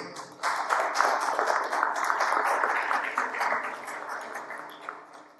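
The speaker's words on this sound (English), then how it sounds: "Big round of applause, please." An indoor audience applauds a speaker at a lecture-series program. Dense, steady clapping rises quickly, holds for several seconds, then eases slightly toward the end, with no talk over it.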